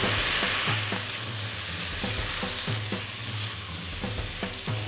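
Sauce added to crispy pan-fried rice cooked claypot-style without a claypot sizzles loudly and steadily up close, punctuated by rhythmic scraping strokes of a spatula stirring against the pan; no talking.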